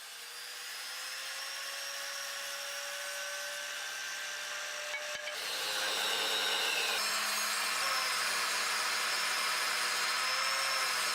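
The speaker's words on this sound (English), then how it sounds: "I start by ripping down some 2x4s for the framing material." A power saw rips lengthwise down 2x4 lumber for framing, giving a continuous whining cut that grows louder and harsher partway through, heard alone and close.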